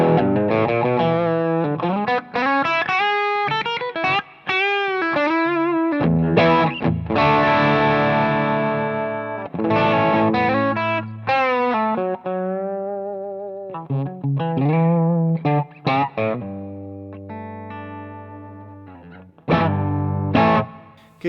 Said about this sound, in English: so that's a tube screamer with the tone at noon.